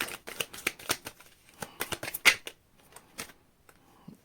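A tarot deck is shuffled by hand in a run of close, crisp, irregular card clicks and riffling taps that thin out toward the end, with no talking.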